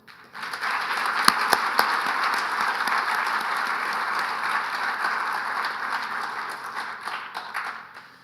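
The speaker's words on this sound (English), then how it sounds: "let us use this opportunity to give a round of applause to our guest speaker tonight" Audience at an inaugural lecture gives the guest speaker a round of applause, a sustained, even roar of many hands clapping that swells quickly, holds steady and fades at the close.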